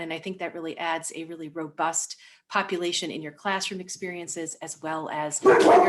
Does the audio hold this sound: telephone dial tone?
no